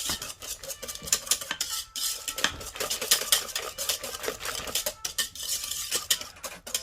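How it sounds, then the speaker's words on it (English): A spoon stirs ground cinnamon and nutmeg into Jamaican green plantain porridge in a pot, with busy rhythmic scraping and clinking against the pot, close up and without talking. "I'll be adding in a teaspoon of ground cinnamon, a half teaspoon of nutmeg, and then I'll be mixing all of that in together"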